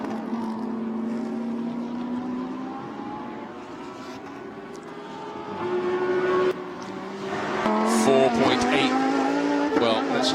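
Lamborghini Super Trofeo race cars racing at Yeongam circuit, engines whining and rising in pitch through gear changes, growing louder as cars pass, with commentary talking over the engines.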